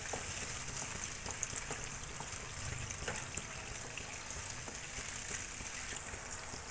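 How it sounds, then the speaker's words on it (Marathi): Steady crackling sizzle of a hot-oil tempering with citric acid boiling in a pan, continuous and fairly close, with faint liquid bubbling underneath. "आता आपल्या ह्या फोडणीला चांगली उकळी आली आहे"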